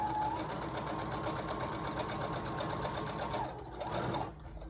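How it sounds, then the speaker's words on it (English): A sewing machine stitches a fabric face mask, running in a steady continuous buzz close by for about four seconds before slowing and stopping near the end. "you're gonna sew till about 1 inch, maybe 2 inches from the edge, and then stop"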